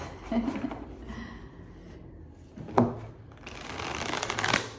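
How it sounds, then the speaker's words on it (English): Tarot cards riffle and shuffle softly in short bursts, with a sharper snap midway and a longer flurry at the end, close by and fairly quiet. "Let me just shuffle the tarot while this happens."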